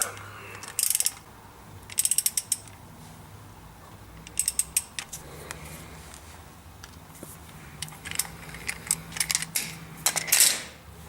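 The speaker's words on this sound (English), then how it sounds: "I'm just gonna tighten up this fill plug." A ratchet wrench tightens the transmission fill plug on a 2005 Nissan Sentra with a manual transmission. It gives several short bursts of quick clicking, close and crisp, with pauses between them and faint metallic knocks.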